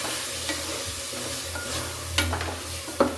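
Ground spinach and coriander paste with masala powder frying in tempering oil for palak rice, a steady close sizzle with occasional sharper scrapes of stirring, no talk.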